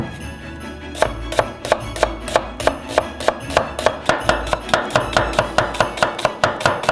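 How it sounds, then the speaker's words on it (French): Knife chopping red onions into quarters on a cutting board, a close, loud series of sharp rhythmic thuds, steady and fast, after a brief quiet start. "Des oignons rouges et on les coupe en 4."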